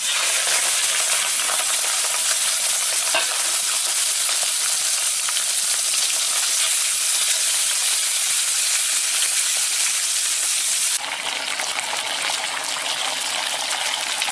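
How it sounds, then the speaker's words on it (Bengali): Prawns coated in salt and turmeric fry in hot oil, giving a steady, dense sizzle and hiss that runs without a break and drops a little in strength near the end. No voices are heard. "এই যে নুন হলুদ মাখিয়ে দিয়েছি, মাছগুলো এবার ভেজে নেব।"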